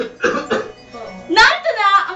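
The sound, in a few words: person coughing in cough syrup radio ad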